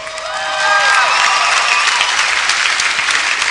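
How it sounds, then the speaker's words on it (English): Medium applause from an audience, swelling quickly to a steady, full round of clapping with faint cheering mixed in. "And that's called medium applause"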